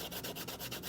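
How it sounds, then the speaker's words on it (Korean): Sandpaper rubs the overlapping glued edges of a leather card wallet in quick, even back-and-forth strokes, about eight per second, close and soft with no voices. "준비된 사포를 이용해서 진행할 거고요"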